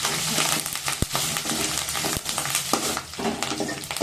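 Leaves crackle and sizzle in hot oil while a spoon stirs, with a couple of sharp clacks against the pan.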